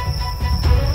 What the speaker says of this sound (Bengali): চারিদিকে ঝিঝি ডাকছে।